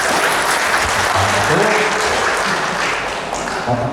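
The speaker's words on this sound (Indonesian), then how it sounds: "Tepuk tangan untuk Bapak Ibu." An audience at a Halal bihalal interfaith gathering in Tegal applauds loudly and continuously, a thick roar of many hands close by. Faint voices murmur underneath.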